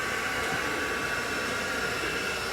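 A blow dryer runs steadily and loudly up close while drying hair behind a brush, with a constant whooshing roar and a steady motor whine.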